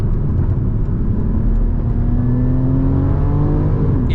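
A Porsche 981 Cayman GTS with sports exhaust revs steadily upward, its engine tone climbing in pitch across the whole span, loud and close with no talking.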